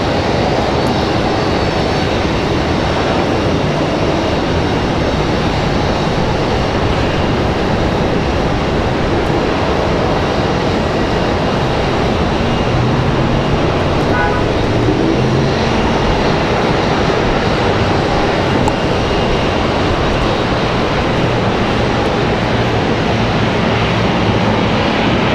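Jet engine rumble from a Southwest Airlines airliner holding at the runway end at Raleigh-Durham International, a loud, constant broadband roar that stays steady throughout with no talk.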